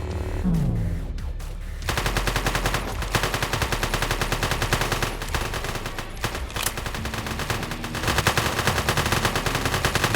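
Heavy automatic gunfire strikes the player during a jewelry store robbery in a video game: a dense, continuous rattle of machine-gun bursts and impacts that starts after a short quieter lead-in and keeps up loud and steady to the end.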